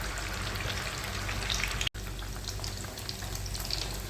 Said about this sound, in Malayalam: എണ്ണയിലിട്ട് 2 ഭാഗം നന്നായി പൊരിച്ചെടുക്കാം.